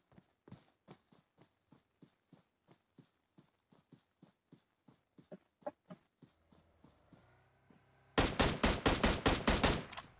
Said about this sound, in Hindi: गन का साउंड एकदम मजबूत आ रहा है भाई